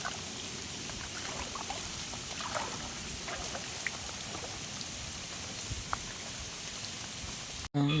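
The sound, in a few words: steady drizzling rain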